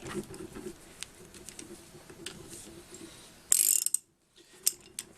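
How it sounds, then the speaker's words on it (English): A socket ratchet tightens a nut on a Penguin engine's right side cover, giving a quick series of sharp clicks, then a dense burst of close ratcheting and a short pause before a few final clicks. Faint background noise sits under it. "Start the nut by hand. Tighten it a bit, or spin it down at least with the socket."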